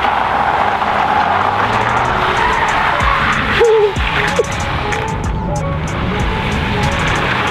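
A front-wheel-drive car doing donuts gives off a sustained, loud tire skid and squeal over engine roar, with a sharper wavering screech midway and faint voices underneath.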